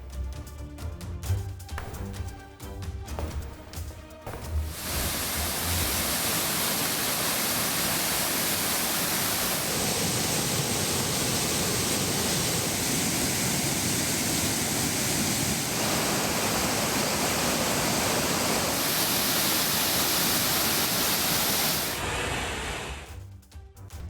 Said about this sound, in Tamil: ஜவ்வாது மலை அடிவாரத்தில் இருக்கும் பீமன் அருவியில் வெள்ளப்பெருக்கு ஏற்பட்டுள்ளது.